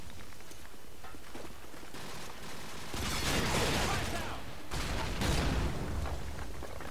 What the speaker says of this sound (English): use my RPG and just fire it off from nowhere